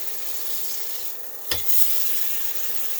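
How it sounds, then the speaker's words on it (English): Sous vide steaks searing in a hot pan, a steady loud sizzle and fry with a brief clatter midway, no talking. "we're just searing the top of it"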